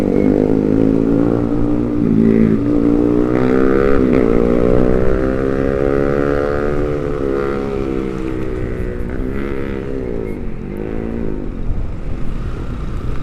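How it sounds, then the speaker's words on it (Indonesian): A loud motorcycle engine rumbles throughout, its exhaust droning and shifting pitch as it passes close by, with no talking. "ada motor lewat knalpotnya blombong gitu"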